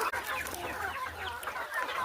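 A flock of free-range village chickens, hundreds strong, clucks continuously in a dense, overlapping chatter close by, with no talking.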